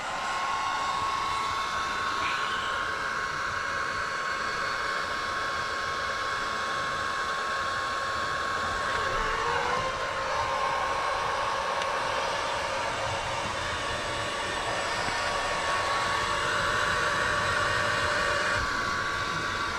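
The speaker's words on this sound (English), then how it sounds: "So we'll go over here and grab a heat gun, and we'll just kind of like heat this guy up a little." A heat gun blows hot air onto a temperature sensor for an Arduino-driven tortoise enclosure lid lifter, giving a continuous close whooshing hum with a faint steady whine that barely changes throughout.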